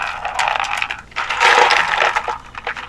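Small craft beads for crochet embellishment pour out onto a surface in a dense, rattling clatter of tiny clicks that swells and trails off, close and fairly loud with no talking.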